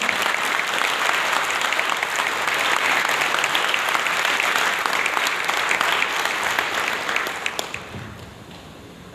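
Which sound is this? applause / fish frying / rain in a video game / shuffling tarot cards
applause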